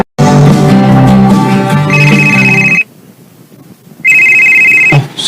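A telephone ringtone trills loudly and close, a bright electronic melody that stops for about a second and then rings again, with no talking over it.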